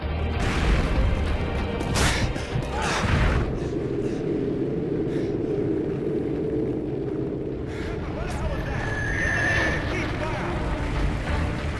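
A frag grenade goes off in the Modern Warfare video game: heavy booming blasts hit around the second and third seconds, then a dense, steady din of battle continues while voices talk over it.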